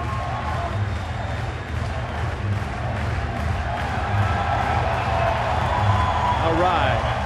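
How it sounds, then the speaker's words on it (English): Baseball stadium crowd at an Orioles–Marlins game roaring and applauding for a curtain call, a sustained broad wash of cheering and clapping from the stands, with a commentator talking over it. "Crowd wants a curtain call."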